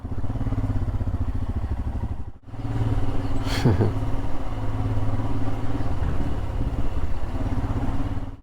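A motorcycle engine chugs at low speed while being ridden into a parking area in Bhaktapur, near Kathmandu. The throb is close and loud, briefly cut near the start, with a short sharp squeal partway through.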